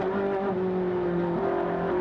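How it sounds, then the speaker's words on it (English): A Pirelli-series race car at the Brno circuit in the Czech Republic downshifts through its gearbox, the engine holding a loud steady drone that dips and re-settles with each shift, close and continuous. "Great to hear that power plant gearbox at work there. Here goes down through the gearbox."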